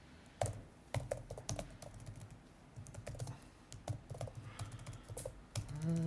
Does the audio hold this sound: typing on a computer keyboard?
yes